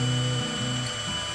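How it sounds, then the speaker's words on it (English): A power drill bores out a stripped screw on a motorcycle clutch perch of a Honda 200x, steady low mechanical whirring with rhythmic ratcheting changes in pitch, close and alone. "So I grabbed the drill."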